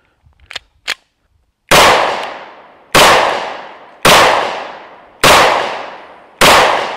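Five loud, sharp pistol shots from an ATI Moxie FXH45 hybrid 1911 ring out alone at roughly one-second intervals, each with a short echoing decay, after two faint clicks at the start.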